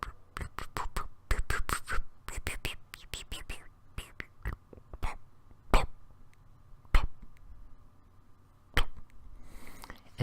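A person imitates bubbles rising to the surface of pudding with their mouth, making a quick run of soft pops and clicks that thins into scattered single pops with breathy pauses between them.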